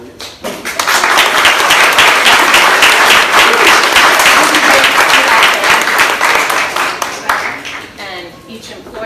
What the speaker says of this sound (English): if we could give them their due applause and then go on to the next one